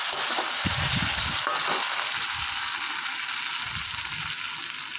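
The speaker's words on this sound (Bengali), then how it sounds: "তো এটাকে ভালো করে কষাতে থাকবো, তেল ছাড়বে যত কষাবো তত তেল ছাড়বে" Spice paste sautéing in oil for patol chingri gives a loud, steady, close sizzle, with a few low thumps and scrapes of stirring near the start and fainter ones later, and no talking.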